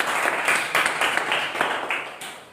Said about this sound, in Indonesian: Maka sekali lagi berikan tepuk tangan